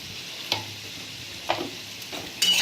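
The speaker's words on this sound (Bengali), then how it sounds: "আলুগুলোকে আঁচ কমিয়ে এমন করে 4 মিনিট ভাজতে থাকবো।" Potato pieces fry gently in a pan on low heat with a soft, steady sizzle, broken by three sharp scraping stirs spaced about a second apart. No voices.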